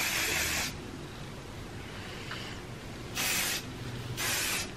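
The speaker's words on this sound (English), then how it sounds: "So I'm gonna go ahead and spray this in." Hairspray hisses in three bursts: a longer spray at the start, then two shorter ones later, each sharp and close against a quiet background.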